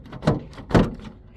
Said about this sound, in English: One last time opening the door.